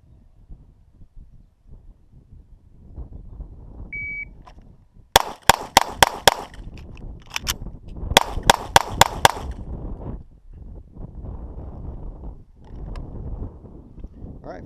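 SIG P320 pistol fired in a 5x5 drill: two rapid strings of five sharp, loud shots, separated by a short pause for a slide-lock reload, over wind noise and a beep-type timer start.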